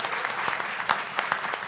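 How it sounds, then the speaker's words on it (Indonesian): Audience applause at a Yogyakarta mayoral candidate question-and-answer event, steady clapping from a crowd with a few sharper individual claps standing out, no talking. "tepuk tangan sekali lagi untuk 1,"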